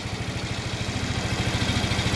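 A GY6 139QMB scooter engine idles steadily right after a cold start on a minus 7 °C morning, a close, even low-pitched pulsing chug with a faint clatter, with no voices.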